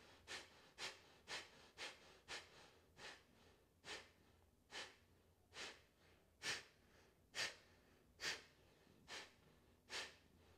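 Deep, controlled breathing during a short yoga routine for digestion, with about a dozen strong, evenly spaced breaths, each a rushing whoosh, heard up close with no talking.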